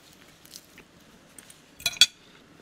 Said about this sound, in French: Tu mâches sans broncher pour l'instant.